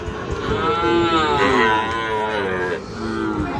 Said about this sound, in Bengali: এই পাশেও কিছু গরু দেখায় আপনাদেরকে